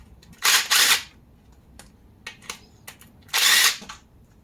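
A power tool whirs in short bursts while undoing the transmission oil pan bolts on a Toyota Yaris, with two close, loud runs near the start, another burst later and small clicks and clanks between them.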